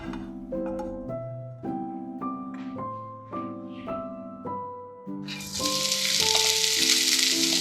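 Grated coconut frying in a little oil over a high gas flame: a loud, steady sizzle rises sharply in the last few seconds, after a stretch of melodic background music.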